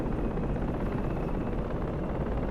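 A helicopter in the video game Project Reality loses control while landing on a slope, a loud, steady, dense rotor and engine roar that fills the whole clip with no letup and no talking.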